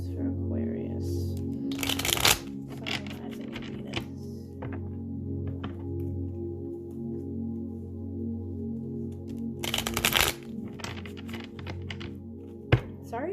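Tarot cards are shuffled in two loud bursts of riffling, separated by softer taps, slides and thunks of the deck being handled on a table, with a voice speaking between them.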